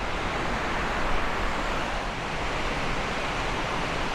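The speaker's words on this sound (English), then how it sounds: "right over there is the waterfall, and it is flowing good" A waterfall below a cliffside staircase rushes in a steady, dense roar of falling water that holds evenly throughout without any talk.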